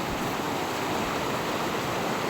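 A rushing creek flows steadily as a mother wades into it, a close, continuous broadband wash of water with no pauses.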